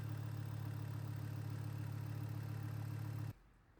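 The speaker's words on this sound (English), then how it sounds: "With coolant in, I start the engine with the top cover removed." A DOHC car engine idles steadily with its top timing cover removed after a timing belt change, a close, even low hum that runs for about three seconds and then cuts off abruptly.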